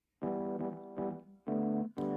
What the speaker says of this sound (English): And then when we add in a bit of this drive and saturation.